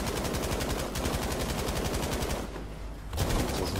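Sustained rapid machine-gun fire from a Tiger tank in Battlefield V on the Narvik map rattles loud and close, with a brief pause before the bursts resume.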